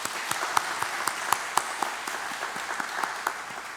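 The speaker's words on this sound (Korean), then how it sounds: "박수 한번 하겠습니다" A small church congregation claps together during a worship service, a steady patter of hands with a few sharper claps standing out, moderately close.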